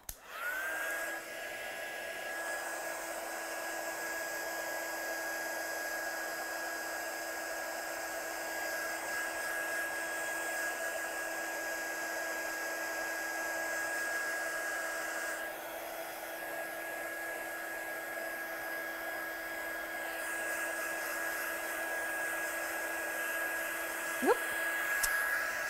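A hair dryer drying ink on cardstock for a handmade card runs steadily and close by with a constant whining drone for the whole stretch, clicking off briefly near the end.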